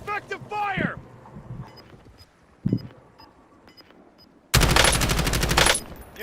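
Call of Duty: Warzone gunfire crackles in scattered shots before a loud, rapid automatic burst near the end, with a radio-style voice calling out early on.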